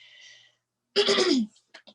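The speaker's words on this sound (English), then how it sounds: "sorry, clear my throat" One rough throat clearing during a podcast recording, a short gravelly burst lasting about half a second, followed by a few faint breaths and small mouth sounds.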